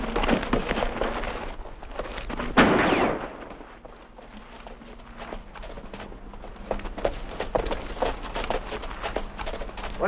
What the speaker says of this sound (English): What's all this shooting for?